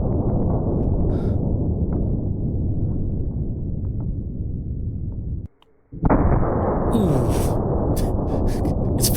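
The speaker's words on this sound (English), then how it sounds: "No, that was an explosion." A gun barrel bursting from an obstruction, a loud, sustained explosive roar that cuts off sharply, then a second blast with crackling, scattering debris, heard outdoors at moderate distance.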